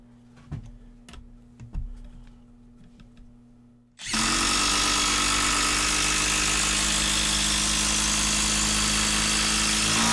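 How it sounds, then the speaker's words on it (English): A Makita TD173 impact driver sinks a 6-inch structural screw at full speed, starting abruptly after some quiet handling clicks and then hammering loudly and continuously for about six seconds close by. "Makita TD173. Again, full speed there."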